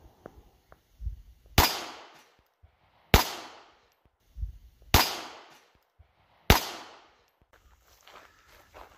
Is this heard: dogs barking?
no